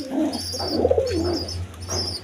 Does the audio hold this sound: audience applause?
no